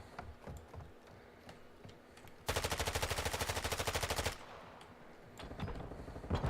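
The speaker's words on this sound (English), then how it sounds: "I'm taking fire!" A loud, fast burst of automatic rifle fire in Modern Warfare 2 rattles for about two seconds, set among quieter scattered shots and clicks before and after.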